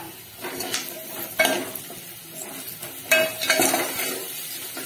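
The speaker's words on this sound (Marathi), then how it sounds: "शेवग्याच्या शेंगा अशा छान तेलामध्ये भाजून घेतल्या" Chopped drumsticks (moringa pods) frying in oil with onion in a pan, with a utensil scraping and stirring through them in a few bursts, near and fairly loud, over a soft sizzle and occasional clinks.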